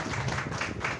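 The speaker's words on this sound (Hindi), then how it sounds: "ताली बजाएं अपने लिए आप लोग" An audience in a Hindi health talk on heart attacks claps for themselves, a short burst of steady, fairly loud clapping with a faint voice underneath.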